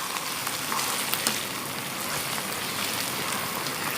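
Chicken pieces fry in a pan for okra chicken tikka, giving a dense, even sizzle with faint crackles, loud and close, no voices.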